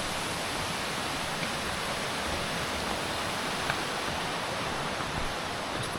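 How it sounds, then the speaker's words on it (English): River flowing beside a hiking trail on Mount Waumbek in the White Mountains, a steady, dense rush of water close by with no pauses and no talk. "Nice walk by the river here."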